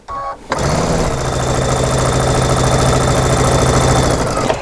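Sewing machine stitching fabric along an edge at its regular straight-stitch setting, running as a steady, fast, loud mechanical hum and rattle that starts after a brief pause and continues without a break.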